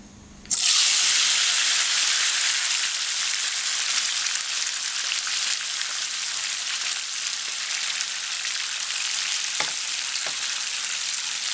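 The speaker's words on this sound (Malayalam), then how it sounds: "അത് ഇതിലേക്ക് ഇട്ടിട്ടൊന്ന് വഴറ്റിയെടുക്കാം." Chopped large tomatoes hit hot oil for a restaurant-style chicken karahi, setting off a sudden loud, close hiss that holds as a steady sizzle, with a couple of faint clicks near the end.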